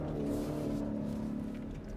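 A 2024 Ford F-150 Raptor R with a 720-horsepower V8 accelerating on an autocross course, a loud, close, steady engine drone throughout with no talking.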